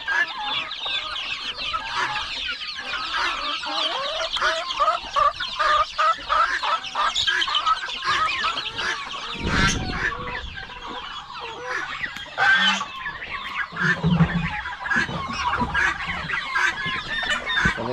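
Chickens cluck steadily across a poultry yard, a busy overlapping chorus of hens with chicks peeping, near and continuous, with a few louder bursts and no talking.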